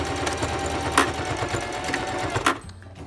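A sewing machine runs steadily, back stitching fabric for a cloth face mask, with a fast rhythmic mechanical whirr that stops abruptly at the end.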